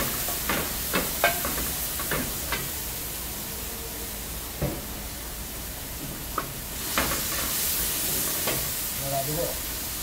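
Seafood and aromatics are stir-fried in a pan for a rosé cream pasta: a continuous close sizzle with scattered clinks and scrapes of a utensil stirring, and a few faint voices beneath.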